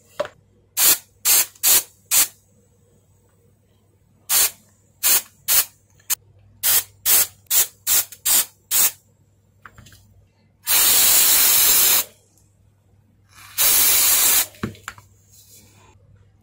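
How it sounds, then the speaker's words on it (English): Aerosol varnish sprayed onto the wound coil of an isolation transformer, a winding of 395 turns: a run of sharp, evenly spaced clicks first, then two long, loud hissing spray bursts, close to the microphone, with no talk. "Now we can apply varnish on the winding, or I will use the spray."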